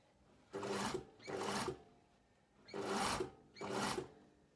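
A sewing machine stitches a blazer shoulder seam in four loud, close bursts of rapid needle whirring, each about half a second long, with short pauses between them.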